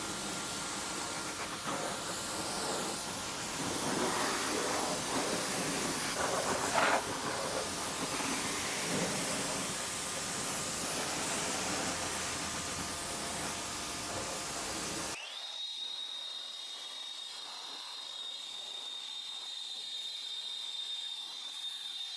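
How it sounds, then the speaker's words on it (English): A light spray is misted across the engine bay of a Mini Cooper, a steady soft hiss lasting about fifteen seconds before it cuts off abruptly, leaving a faint high whine. "So just get a light spray."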